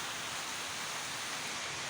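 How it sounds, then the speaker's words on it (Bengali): Heavy torrential rain pours down in a dense, steady hiss that fills the brief stretch with no pauses or voices. "এত জোরে বৃষ্টি হচ্ছে, মানে মুষলধারে বৃষ্টি হচ্ছে পুরো"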